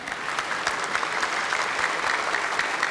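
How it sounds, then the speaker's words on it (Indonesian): A studio audience claps at the second 2019 Indonesian presidential candidates' debate, a lively sustained round of applause with crisp individual claps standing out over the steady wash. "Boleh tepuk tangan yang meriah sekarang?"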